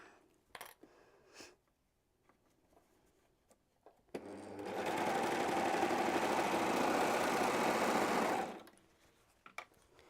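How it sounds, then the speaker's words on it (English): Home sewing machine stitching the shoulder seams of a child's Christmas pyjama tank top, a steady, close whirring run of about four seconds after quiet fabric handling and light clicks, with no talking. "we're going to sew across the tops of these shoulder seams"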